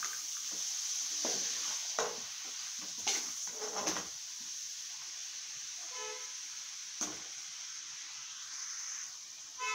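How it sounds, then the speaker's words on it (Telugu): Cabbage fry being stirred in a hot pan, hotel-style crispy preparation: a steady bright sizzle runs throughout while a spatula scrapes and knocks against the pan in several short irregular strokes. "అంతా కలిసేటట్లుగా బాగా కలపాలి"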